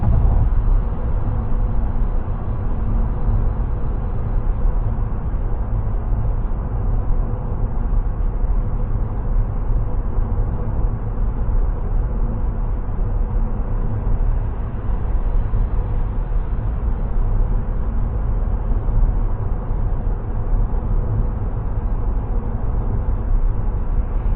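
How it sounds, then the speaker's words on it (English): Steady broadband road roar inside a 2025 Dongfeng Box electric car cruising at night at 100 km/h, tire noise dominating with a light layer of wind rush from the boxy body, constant and unbroken. "So at 100 kilometers per hour, I can mostly hear tire noise. And there's also a little bit of wind noise because of the boxy shape."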